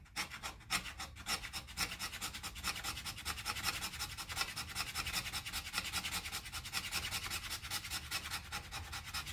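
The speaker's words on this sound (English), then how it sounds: "We're going to use the back of the blade to shave off" Steady rhythmic scraping as a knife spine shaves thin curls off a stick of fatwood for fire starting, a continuous close rasping run of strokes with no talking.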